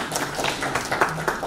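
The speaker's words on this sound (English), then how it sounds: "A round of applause." Audience applause at a renewable energy conference session: a continuous, moderately loud patter of many hands clapping, with a couple of sharper claps standing out near the end.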